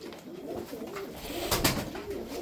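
Several Sarıkır pigeons coo close by in soft, repeated rolling calls that overlap one another, with a brief flutter or rustle in the middle and no voices.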